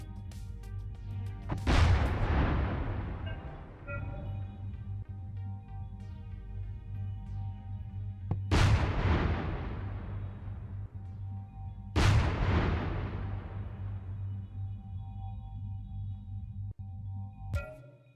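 Gunship cannons fire in Minecraft with the Create Aeronautics mod, three loud booming blasts with long decaying tails spaced several seconds apart over a steady low mechanical hum.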